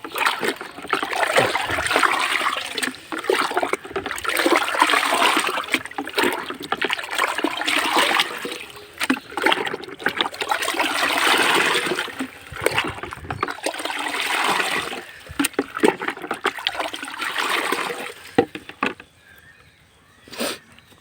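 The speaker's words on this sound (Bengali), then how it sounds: "ভালো করে গুলায় নেবেন পানির ভিতরে" Gumboro poultry vaccine is stirred into water, giving continuous sloshing and swirling splashes in bursts with brief pauses, fading to quieter trickles at the end.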